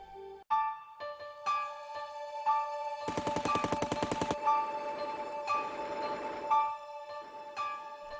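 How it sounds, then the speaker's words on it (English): Rapid bursts of Tommy gun automatic fire rattle loudly in the middle, surrounded by ringing tones and sharp single shots, with no voices. "Capone and his enemies were fighting with a new weapon, the Tommy gun"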